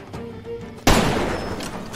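Gunfire in the shooter video game Far Cry 2: after a quiet lead-in, one sudden loud shot bursts out and rings into a long, noisy decay.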